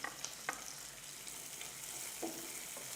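Cauliflower fries in a pan with coriander and curry leaves, giving a steady, faint sizzle with a few light stirring clicks and scrapes.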